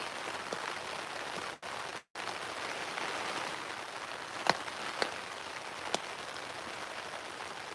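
Steady, dense rain pours down, a constant hiss with a few sharper drips and taps standing out, briefly cutting out twice early on.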